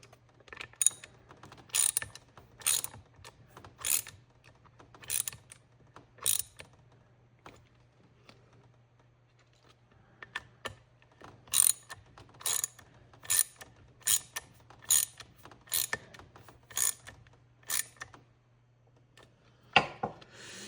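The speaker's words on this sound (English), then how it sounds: "These holes here haven't been tapped, so I'm tapping them, it seems, at the same time, tightening them" Screws are driven by hand into new, untapped plastic holes on a DeWalt DWE6423 orbital sander. Sharp ratcheting clicks come in quick clusters with short pauses, close up over a faint steady hum, with no talking.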